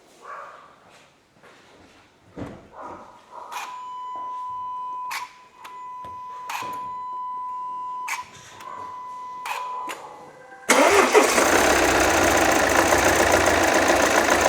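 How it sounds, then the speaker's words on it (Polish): Clicks and a few electronic beeps, then the 2.0 diesel engine of a Volvo XC90 with 200,000 km and a cracked piston roars to life and idles loudly with a rough, uneven rumble. "Zobaczcie, jak nierówno silnik pracuje."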